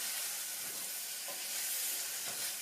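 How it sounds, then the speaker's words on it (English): Pasta with bacon bits for carbonara sizzles steadily in a hot pan while being stirred, a soft, even hiss with faint scraping, fairly quiet and without voices. "Stir it up so that the bacon bits are mixed up with the pasta"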